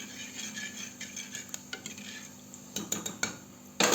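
Cumin seeds and bay leaf stirred and roasted in a pan, with soft scraping and light clinks of a spoon against metal over a faint sizzle, a few sharper knocks near the end, no talking.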